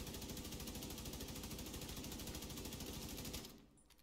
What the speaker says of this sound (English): So this is the Carbine 7.